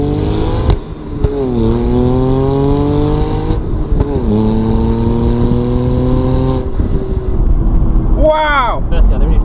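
A 300 hp BMW Z4 sDrive 35i's six-cylinder engine pulls hard, heard loud from inside the car as the revs climb in rising sweeps through several gear changes, ending with a sharp rev flare.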